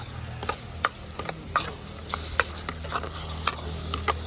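Chopped tomatoes are stirred into onions frying in ghee and butter. A spoon clacks against the pan in regular taps over a soft, steady sizzle, close and unaccompanied by voices.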